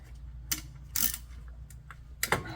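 A wrench loosens a 10mm bolt during water pump and alternator removal on a 2004 Ford Mustang Mach 1. A few quiet, short, sharp metallic clicks come at uneven intervals.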